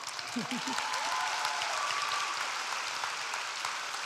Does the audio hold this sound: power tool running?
no